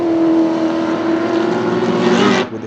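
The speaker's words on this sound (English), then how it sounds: "Jared House set the early pace in his awesome sounding LX Torana" An LX Torana race car's engine roars loud and close at Baskerville circuit during Improved Production racing, a steady sustained drone that drops off abruptly near the end as the car passes.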